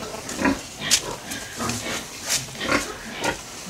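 A pig grunts repeatedly nearby in short, soft bursts, a steady series of snorts and oinks at a piggery with no talking.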